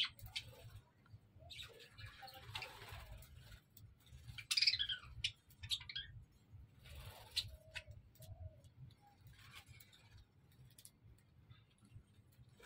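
Faint, scattered bird chirps and soft calls come from nearby, quiet against a low background hum.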